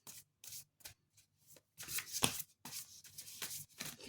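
Tarot cards are shuffled by hand in short papery riffling bursts separated by pauses, close and fairly quiet, with no talking.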